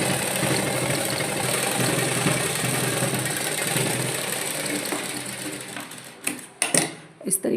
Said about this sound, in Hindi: इसके हम सिलाई चला देंगे।